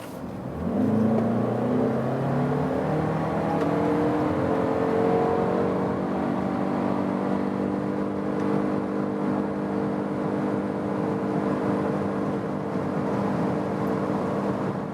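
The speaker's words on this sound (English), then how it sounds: "we want to show you one more time acceleration when we go to a higher speed as well" A Suzuki Across PHV plug-in hybrid mid-size SUV in sports mode accelerates hard from about 30 km/h, its engine note climbing steadily through the gears into a loud, sustained high-speed drone with no talking.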